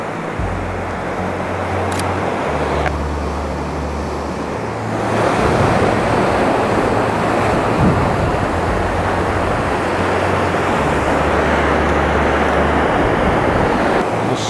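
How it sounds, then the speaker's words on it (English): Ocean waves and the incoming tide washing over rocks on the Plum Island shore: loud, continuous surf with rushing surges that swell partway through, mixed with wind buffeting and no talk. "Tide's coming in pretty hot now."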